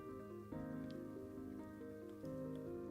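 Soft, continuous patter of rain as a weather effect in a Pokémon video game, sitting low beneath layered game music with sustained tones that shift every second or so.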